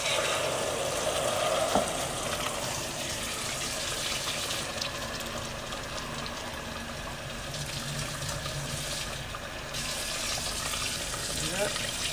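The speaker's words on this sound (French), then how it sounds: "Ensuite, on va rajouter de l'eau." Water pouring into a hot frying pan, a steady hissing, gushing rush with sizzle that runs continuously and fairly loud, close by, with a brief clink near the start.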